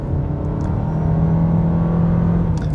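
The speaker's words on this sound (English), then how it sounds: "It does make a whiny driving noise," A 2023 Lexus UX hybrid with a CVT runs at maximum power, giving a steady droning engine hum with a sustained whine over it that holds evenly throughout.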